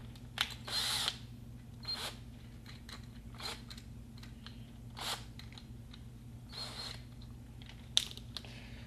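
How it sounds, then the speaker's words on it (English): A power drill fitted with a step bit cuts through material for an FPV installation, with a steady motor whine underneath and repeated short bursts of grinding as the bit bites, close and fairly loud. "I'm going to drill through all these steps and then also drill this marked line"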